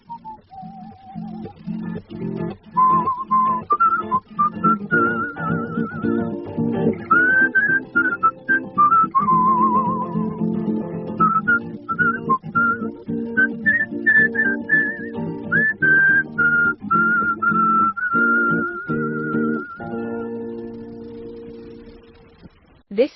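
A person whistles a wavering, sustained tune for over twenty seconds, loud and close, over a background of low music and soft sounds.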